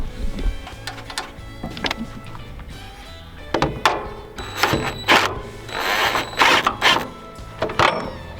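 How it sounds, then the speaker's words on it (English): Tightening a screw on a Harbor Freight sawmill: a series of metallic clicks, ratcheting scrapes and clanks at close range, irregular and in bursts, with no talk. "this should tighten itself by tightening that screw"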